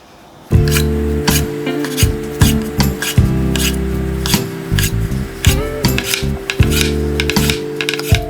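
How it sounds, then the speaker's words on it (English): Knife cutting sausage on the bias for a pasta dish, giving a run of close, steady rasping strokes against a board with brief pauses between cuts and no talking. "the sausage we just sliced, we're gonna go ahead and throw that into a pan"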